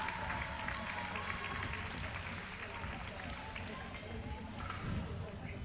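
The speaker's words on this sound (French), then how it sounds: "Applaudissements pour Océane Le Quad." Audience applause for amateur scooter rider Océane Le Quad at a freestyle scooter final, a steady wash of clapping and crowd noise filling the space, with voices murmuring underneath.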